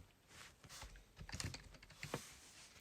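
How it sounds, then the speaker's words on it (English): Quiet, faint keystrokes on a computer keyboard tap out a short search entry in small irregular bursts, with no talking. "Go to the search box and type in drywall Dewalt."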